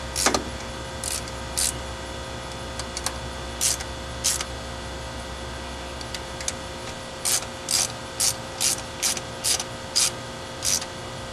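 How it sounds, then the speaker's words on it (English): A ratchet clicks in short bursts while snugging down the aluminum intake manifold bolts on a small block Chevy in a 1972 Nova, with a quick run of evenly spaced clicks near the end over a steady background hum. "what we're going to do is crisscross and snug the bolts"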